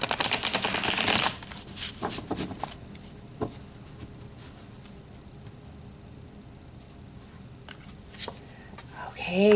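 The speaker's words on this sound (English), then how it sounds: "So let's pull a tarot card for each one of these daily oracle messages." Tarot cards being shuffled for a reading, a loud close burst of riffling at the start, then quieter card handling and taps, with someone talking at times.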